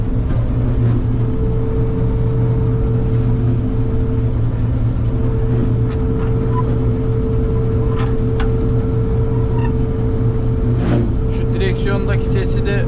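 A tractor engine on a barley harvest runs steadily and smoothly, a continuous low droning rumble close by with no pauses, while faint incidental knocks and clicks sound over it.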